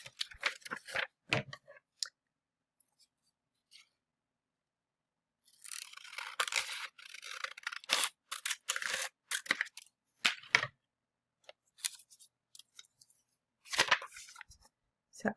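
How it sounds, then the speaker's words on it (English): Scissors cutting paper along a printed dotted line: a few sharp snips near the start, then a longer run of close, crisp snipping and rustling in uneven bursts with quiet gaps between. "So I cut right below the words."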